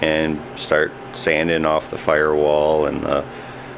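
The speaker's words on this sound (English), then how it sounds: "It's the heater that I installed in our garage" A space heater hums and blows steadily in a garage while a person speaks close by over it.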